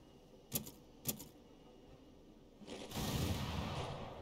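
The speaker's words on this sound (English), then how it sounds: "A nice little volley to start with." Musket volley fire in a Franco-Prussian War battle game: two sharp distant cracks a half second apart, then a denser rolling crackle of massed shots swelling and holding, all fairly faint.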